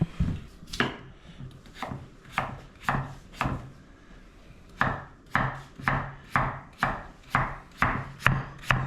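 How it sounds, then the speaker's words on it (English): A knife slices through potatoes on a cutting board in quick, even chops, about a dozen sharp close thuds with a short pause in the middle, loud and alone. "I won't cut them too thick because this way they'll cook."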